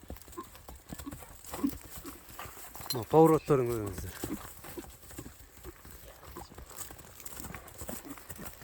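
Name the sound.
horse hooves clip-clopping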